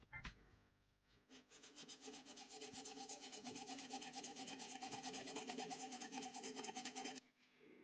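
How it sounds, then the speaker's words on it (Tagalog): A hacksaw cuts through the threaded part of a metal socket in steady, rapid back-and-forth strokes, loud and close, continuing for several seconds before stopping abruptly. "gamit ang lagari para sa metal, putulin ang threaded na bahagi"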